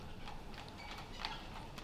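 Hooves clip-clop in a video game's horse-riding minigame as a carriage is pulled along, a faint, steady rhythmic clopping over low background noise.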